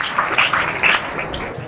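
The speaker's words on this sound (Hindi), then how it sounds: "अनन्या के लिए एक बार जोरदार तालियां बजा दो" An audience bursts into a short round of applause for Ananya: dense, steady clapping from many hands, fairly close and full, lasting under two seconds.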